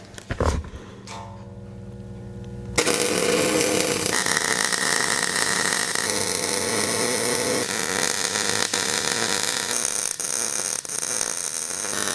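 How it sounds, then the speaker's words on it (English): Metal parts for an engine stand being welded: after a short quiet lead-in, a steady, loud crackling hiss starts and holds for about nine seconds without a break. "We'll just give these guys a little weld."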